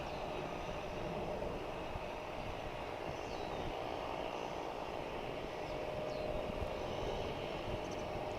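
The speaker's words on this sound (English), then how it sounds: "Let's see if we can pick up this flight from Lawton. There it is." An airplane flying near DFW Airport gives a steady, broad engine roar with a distant, continuous rumble and no pauses or voices.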